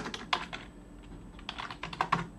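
Fingers type a command on a computer keyboard, producing crisp, uneven clicks in short bursts with a brief pause between, close up.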